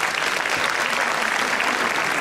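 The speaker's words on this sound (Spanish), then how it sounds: "Fuerte el aplauso." Audience at a jota festival in Alcolea de Cinca applauding the rondalla before it plays, a dense, steady wash of clapping at even loudness throughout.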